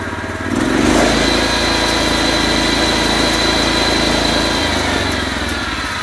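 The small gas engine on a Huike HKS31G sawmill revs up and then runs steadily, a loud buzzing drone with a rough low throb that continues unbroken and eases slightly near the end.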